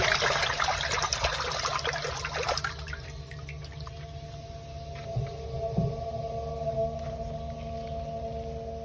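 A solar-powered 375 W water pump, run from a 130 V amorphous panel, hums steadily with water rushing at first. The flow noise then fades, leaving a constant motor drone and occasional small thumps.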